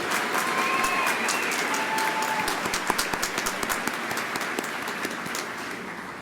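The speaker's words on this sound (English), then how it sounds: "Let's give all of those graduates a nice round of applause." A large audience applauds graduates at a spring commencement ceremony, sustained even clapping that stays full and steady throughout, with faint whistle-like tones at the start.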